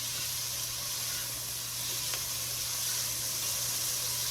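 Green and red onions cook in a pan, with a soft, steady sizzle and hiss at low level and a faint low hum beneath it, no talk.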